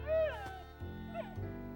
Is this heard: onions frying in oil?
no